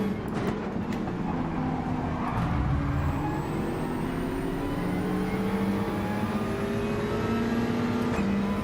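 Racing car engines in Gran Turismo 7 during a Mazda3 race in Atlanta, a loud continuous drone of several cars with rising and falling pitch as they accelerate and shift, filling the whole stretch without pause.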